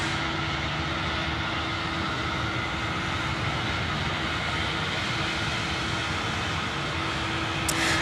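A Jetstar Airbus A321neo airliner makes a continuous, even jet rumble that holds at a constant level throughout, broad and fairly distant-sounding, with no speech.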